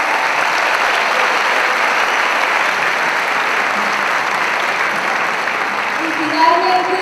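An audience claps steadily for a youth symphonic band at an anniversary concert in Medellín, a dense, even wash of applause throughout with a brief rise near the end.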